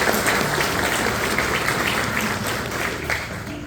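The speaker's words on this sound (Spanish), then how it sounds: "Un fuerte aplauso de agradecimiento también para ellos." Applause from the crowd at a school graduation ceremony, held in a hall and heard as a thick, sustained wave of many hands clapping that tapers slightly toward the end, with no speech.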